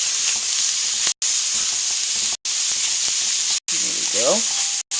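Fried rice with soy sauce sizzling in a pan over high heat, a loud steady hiss of frying broken by a few brief gaps, with a faint voice murmuring underneath near the end.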